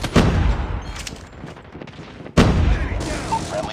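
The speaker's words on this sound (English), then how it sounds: "Friendly sentry gun deployed." A sentry gun fires in the mobile shooter Call of Duty Mobile, loud bursts of rapid gunfire with a sharp new volley partway through, mixed with game voice lines.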